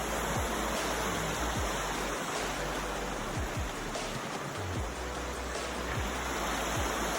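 The Mersey River's flowing water gives a continuous, broad rushing roar close by, with occasional low bumps from handling the recording device.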